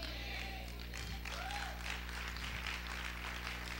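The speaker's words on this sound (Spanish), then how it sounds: "Si ese aplauso es para el Señor, déselo fuerte." Faint applause from a church congregation in a service, a soft wash of clapping under a steady low hum, with brief murmurs in the room.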